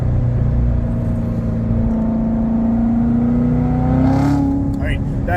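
A Chevrolet Corvette engine pulls hard in a lower gear, a loud continuous drone that climbs steadily in pitch with a brief throttle shift near the end, heard from inside the car.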